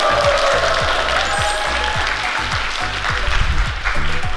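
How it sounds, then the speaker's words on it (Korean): After a talk on ketogenic diet, a crowd claps continuously and loudly, a thick, sustained burst of applause with thumping low knocks running underneath. "자, 박수!"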